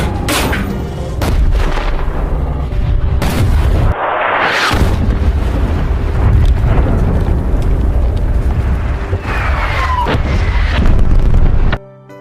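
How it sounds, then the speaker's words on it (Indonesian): Artillery shells bombarding a position in a war film, heavy booming blasts and rumbling explosions filling the scene, loud and continuous, with a sudden cut at the end. "Letkol Faisal meminta serangan artileri untuk membombardir sekelompok ISIS itu."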